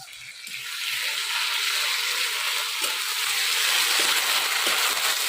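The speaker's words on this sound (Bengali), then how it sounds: "এই দেখেন আদা আর লঙ্কা ভাজা হয়ে গেছে মশলা।" Ginger and green chili fry in a pan of oil for a Bengali fish curry, giving a steady, fairly loud sizzling hiss that swells at the start and carries on evenly, with no talk over it.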